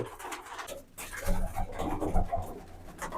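Pigeons of a prized racing bloodline coo in low, throaty notes close by, a few soft calls overlapping in quick succession with no talk.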